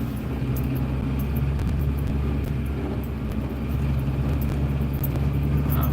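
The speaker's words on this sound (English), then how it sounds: "We're just cruising around Anchorage." A car cruises the streets of Anchorage, Alaska, giving a steady, loud interior rumble of engine and road noise that runs unbroken throughout, with no talking.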